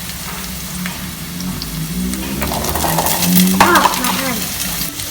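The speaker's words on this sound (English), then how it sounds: "Then keep on sauteing your carrots and potatoes." Carrots sautéing in a pan for chicken adobo, a steady sizzle with spatula scraping and stirring, one sharper clink near the middle, and a brief voice speaking over the cooking.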